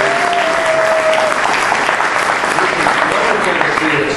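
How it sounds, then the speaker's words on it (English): Loud applause from the audience at a Connecticut 5th District congressional debate, a thick roar of clapping that fills the room throughout, with a voice briefly audible over it near the start. "Give everybody a round of applause."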